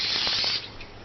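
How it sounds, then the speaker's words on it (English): Cooking spray hisses from a can onto a baking pan in one loud burst of about half a second, then stops abruptly, leaving quieter background noise. "Lesson 5, spray your pan down."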